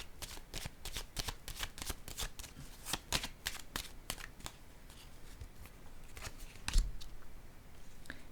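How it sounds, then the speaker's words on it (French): Quiet, close shuffling of a deck of cards during a card reading, with soft riffling and repeated flicking taps as a card is drawn. "Je vais piger une autre carte."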